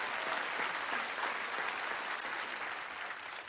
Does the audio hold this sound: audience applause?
yes